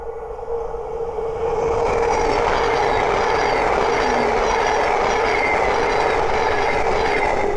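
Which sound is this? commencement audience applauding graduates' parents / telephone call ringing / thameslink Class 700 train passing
thameslink Class 700 train passing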